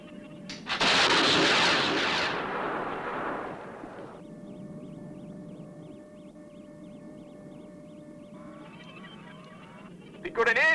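A missile launching in the Fireball XL5 episode "Invasion Earth", a loud roaring blast that swells then trails off into a hum under electronic tones and beeps, with a sharp burst at the end.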